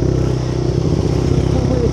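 A motorcycle passes on a road without side lights, a steady close engine drone with rumbling low tones and faint clatter throughout.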